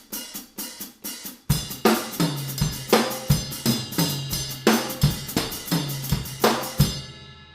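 Slower drum kit groove on kick drum, snare drum and toms, opening with a few lighter taps before steady heavy hits, close and unaccompanied by speech.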